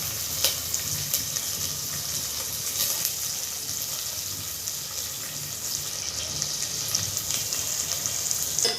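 Curry leaves, chopped green chilli and coriander stems sautéing in a pan, a constant close crackling sizzle with a few faint stirring scrapes, fairly even in loudness.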